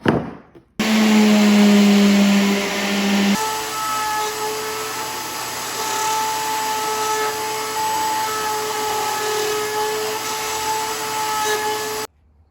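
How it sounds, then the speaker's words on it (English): A power sander whirs loudly and steadily on wooden toy backhoe loader pieces, its pitch shifting as it works, running for several seconds before cutting off abruptly. "I'll give these things a good sanding"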